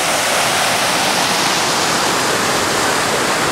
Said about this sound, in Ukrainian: От, тут у нас водоспад є.